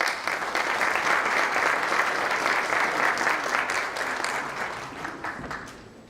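Sustained, dense applause from a seminar audience at a university curriculum workshop, steady and fairly close for most of the stretch before easing slightly toward the end.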